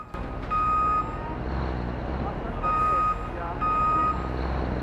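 A reversing bus in Watch Dogs 2 sends out three loud, near electronic beeps in a steady pulse over a rumbling engine and street noise.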